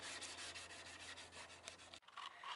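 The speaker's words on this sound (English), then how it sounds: "so we're sanding down the third coat. Still using 80 grit, right?" 80-grit sandpaper rasps over a third coat of car body putty during mobile dent repair, a quiet rhythmic back-and-forth scrubbing with a brief pause near the end before the strokes resume.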